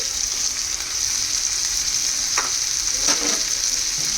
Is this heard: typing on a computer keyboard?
no